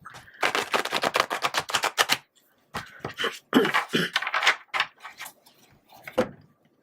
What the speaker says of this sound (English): I'm going to give it one more shuffle for you.